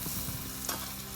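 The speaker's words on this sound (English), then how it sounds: "Stir it all up." Curry spices such as cumin, garam masala, turmeric and cinnamon stirred in a frying pan for chicken curry, a loud, close, constant sizzle with a brief scrape of the spoon, no speech.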